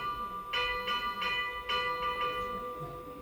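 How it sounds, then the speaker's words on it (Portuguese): A church bell in São João del-Rei, Brazil, rung by its swinging clapper, gives about six clear metallic strikes in an irregular rhythm, each ringing on briefly, moderately distant and alone over quiet background. "Esse badalo desse sino ele está rodando um pouco."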